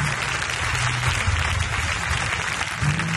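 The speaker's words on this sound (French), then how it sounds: "Amen, on acclame bien la foi du Seigneur" A church congregation applauds steadily and loudly, a dense wash of clapping filling the room without pause.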